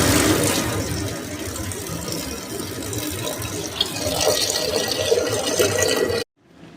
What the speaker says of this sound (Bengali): পরিমাণ মতো জল দিয়ে আমি কিন্তু প্রেসার কুকারটাকে গ্যাসের ওভেনে বসিয়ে দিলাম